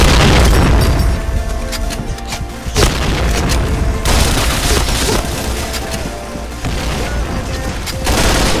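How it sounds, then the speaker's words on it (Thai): Loud grenade blasts in the shooter game Point Blank, several booming detonations with sharp onsets followed by dense crackling debris and rumbling decay. "ระเบิด"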